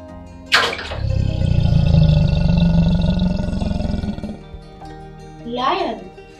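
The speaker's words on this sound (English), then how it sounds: "Lion." A lion gives one long, loud, close roar that swells and then slowly fades. A brief sharp sound comes just before it, and a short voiced call follows at the end.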